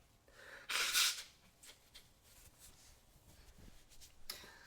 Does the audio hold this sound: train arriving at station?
no